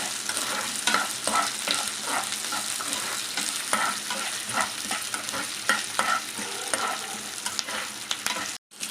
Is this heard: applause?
no